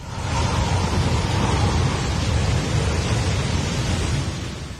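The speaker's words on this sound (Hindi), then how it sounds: "चंद सेकंड में ही पानी पुल को अपनी चपेट में ले लेता है।" Torrential floodwater surging over a bridge and ripping away a heavy steel valley bridge, a loud, steady broadband roar of rushing water with no letup.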